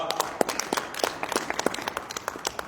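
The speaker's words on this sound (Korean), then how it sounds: "다시 한번 큰 박수 부탁드리겠습니다." An audience at a Jeonbuk regional development policy forum applauds, with scattered, sharp individual hand claps at a moderate distance that thin out into a sparse patter.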